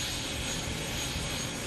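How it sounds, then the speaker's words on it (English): An MTT Y2K turbine-powered motorcycle engine roars steadily with a dense, jet-like whoosh and whine, loud and constant throughout the short stretch. "the Y2K makes a sound signature unlike anything else on wheels"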